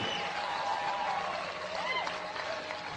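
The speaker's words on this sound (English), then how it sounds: "Get old man a round of applause" A crowd claps steadily in sustained applause, with a voice faintly audible through the noise.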